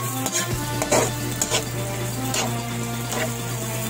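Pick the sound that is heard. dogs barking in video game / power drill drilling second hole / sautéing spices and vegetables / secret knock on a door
sautéing spices and vegetables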